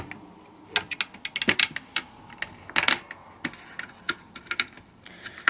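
An Allen key unscrews the pins on an airsoft M4, giving an irregular run of small, sharp metallic clicks and ticks, close by and fairly quiet, with brief clustered bursts.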